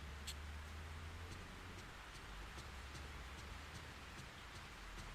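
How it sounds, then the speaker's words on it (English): Steady rain falls in the video game Fatal Frame 3 in a constant wash of noise, with faint regular ticks layered over the downpour and no voices. "It's raining again."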